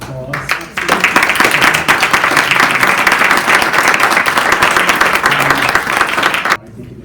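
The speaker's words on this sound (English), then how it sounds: "I think you deserve a big round of applause." Audience at a Charlotte city council District 4 town hall bursts into loud, sustained applause for about six seconds, a dense steady clapping that starts abruptly and cuts off near the end.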